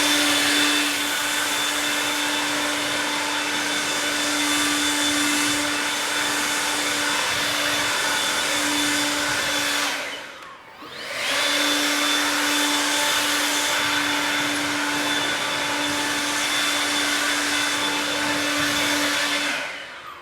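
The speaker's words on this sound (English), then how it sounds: "we did the air blower, the big old scary monster air blower" A loud air blower roars steadily for about ten seconds while drying a horse being readied for a wedding, cuts out briefly, then starts up again and runs at full strength to the end.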